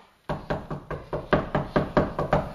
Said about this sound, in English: I can knock loud too.